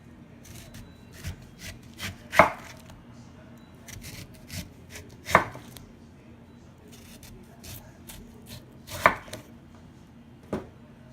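A knife chops through daikon radish into planks on a wooden cutting board, with soft slicing rubs between a few sharper knocks as the blade hits the board.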